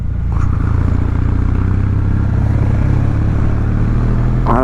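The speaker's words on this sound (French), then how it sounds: "ce bruit là de moto ancienne" A 2023 Kawasaki W800 classic motorcycle engine while riding, a steady low throbbing drone held loud and continuous throughout, with no voices over it.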